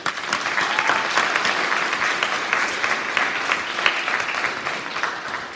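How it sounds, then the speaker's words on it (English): Steady, dense applause from an audience at a middle school fall sports assembly, a crowd clapping continuously at moderate loudness with no voices rising above it. "So I want to give them a round of applause, please."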